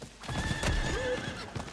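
Horse in the video game Diablo 4 in the Bloodpox Basin: steady clip-clop of hooves under a loud, close neigh that rises and falls, with no talking.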